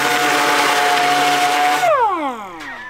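A power sander grinds steadily against rusty metal on a truck's radiator support, a loud continuous whir that then winds down as the tool spins to a stop.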